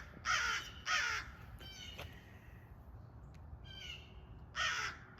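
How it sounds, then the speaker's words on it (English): Several crows caw outdoors in loud, harsh calls that come in short bursts with gaps between them, with no speech. "Yeah, I got a bunch of pesky crows."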